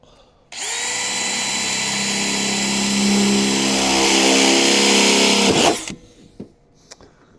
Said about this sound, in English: drill a couple holes here